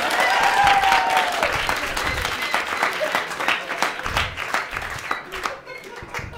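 An audience at a comedy show applauds a guest, a burst of clapping and crowd noise that is loudest at first and then thins out over several seconds.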